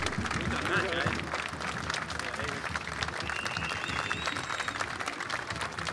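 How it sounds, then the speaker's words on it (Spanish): Applause rings out at a Spanish-language ceremony where new national leaders of a state workers' union take office, a steady crowd clapping throughout with voices and cheers mixed in. "¡Fuerte el aplauso!"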